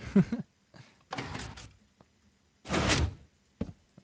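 A door being broken and knocked out of place in Minecraft, heard as several short scraping, thudding bursts separated by gaps, with one longer grinding crash near the end and no voices.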